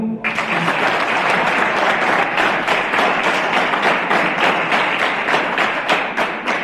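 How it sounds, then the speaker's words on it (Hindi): Students at a school awareness talk on girls' education break into loud, sustained applause, dense clapping with a regular pulsing rhythm that continues strongly for several seconds. "तालियां मारो।"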